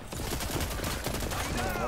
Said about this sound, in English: He's using the SMG